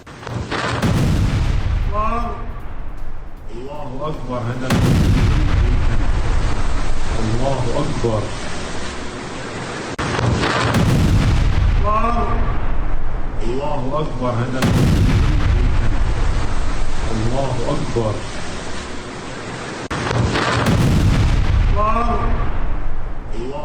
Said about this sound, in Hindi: हिजबुल्लाह पर आईडीएफ की तरफ से एक और बड़ा हमला